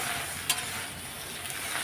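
Okra frying in a salted pan gives a soft, steady sizzle with a brief clink near the start, and no voices are heard.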